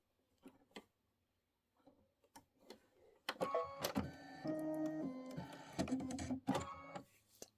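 A sewing machine runs a quilting stitch with glitter thread and a Microtex needle: a few soft isolated clicks first, then several seconds of busy mechanical whirring and tapping, close and fairly quiet.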